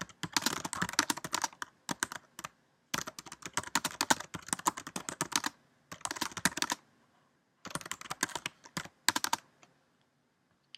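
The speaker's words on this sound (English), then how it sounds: "I'll type my message" Rapid clicking of a computer keyboard as a message is typed, coming in bursts of quick keystrokes with short pauses between, close and clear with no talking.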